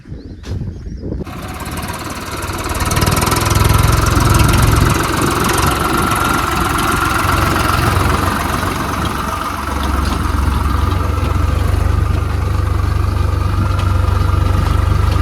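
Swaraj tractor engine running on a farm during peanut planting: a steady, loud diesel rumble with a knocking idle that continues for the whole stretch after a brief quieter start.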